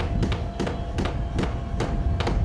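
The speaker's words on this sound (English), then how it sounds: "Banging of hammers." Repeated hammer blows ring out at an uneven pace, about eight sharp bangs over a steady background hum, fairly close and loud.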